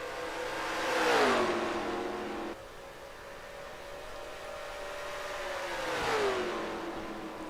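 Stock cars roar past in an NR2003 racing game, two engine swells rising and falling as cars pass on track, with a steady engine drone between, loud and close with no talk.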